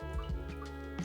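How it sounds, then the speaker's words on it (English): Coolant from a Volvo C30 D4 diesel engine with the water pump removed, dripping in a few quick close drops over a steady mechanical hum. "Now I've just got a lot of coolant dripping everywhere."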